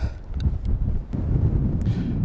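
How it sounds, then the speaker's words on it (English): Strong mountain wind in Snowdonia, Wales buffets the microphone in heavy, low rumbling gusts that roar continuously through the short clip. "you can see it's really windy"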